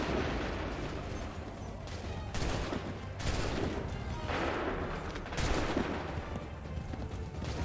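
Repeated musket volleys ring out in Assassin's Creed 3, dense crackling bursts of many guns firing at once, several loud rolling salvos in quick succession with shouted commands between them.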